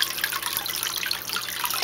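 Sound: water flowing in a flow test

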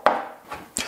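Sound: chopping an onion

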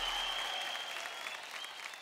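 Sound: applause

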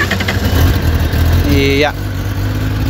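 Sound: Kawasaki ZX-10R motorcycle with stock exhaust running

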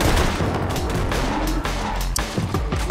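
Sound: gunfire from guns in the video game Borderlands 2

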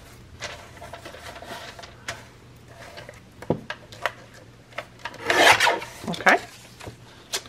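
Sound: cutting and trimming junk mail paper

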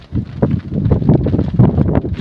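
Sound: wind blowing

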